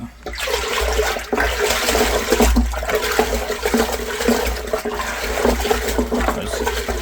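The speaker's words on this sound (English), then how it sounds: "Give it a stir every now and then just to add some oxygen and get these microbes going." A stick swirls microbial fruit tea liquid around a bucket, making a continuous close watery sloshing and rushing that carries on steadily for several seconds without talk.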